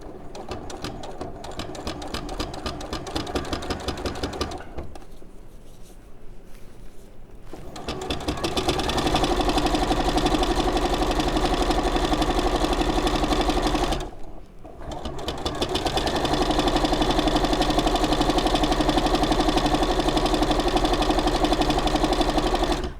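A sewing machine stitching fabric for a weekend bag runs in long, fast, steady mechanical bursts, loud and close, with a short pause in the middle and another brief stop later before resuming.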